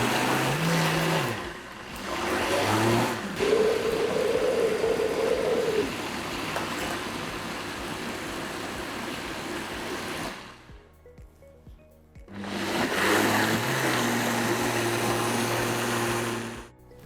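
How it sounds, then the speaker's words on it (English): A blender whirs as it purées pumpkin and ginger muffin batter, a steady loud motor drone that runs for about ten seconds. It cuts out briefly, then starts again for a second burst near the end. "Make sure you switch your blender off when you do that."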